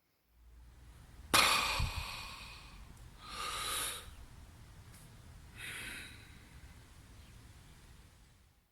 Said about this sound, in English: breathe slowly and deeply